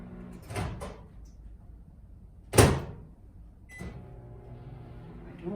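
A microwave door is handled: a soft clunk, then a sharp louder latch click, followed by another quieter knock, with quiet room hum between.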